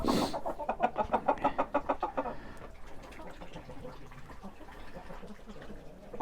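A rooster clucks in a rapid burst of repeated calls up close, then settles into quieter, scattered clucking and rustling.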